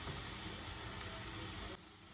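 Mushrooms sautéing in a pan for a high-protein low-carb breakfast quiche, a soft, steady sizzling hiss that fades to a quieter hiss near the end, no speech.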